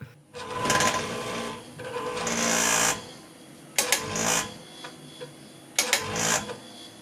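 Rumble motors of a sim racing rig buzz and whir in repeated bursts, some long and some short, separated by brief lulls, sounding close and somewhat harsh.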